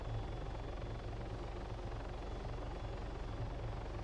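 A helicopter flies in the video game DayZ, a continuous, even rotor chop and engine hum that holds steady and fairly quiet throughout, with no talk.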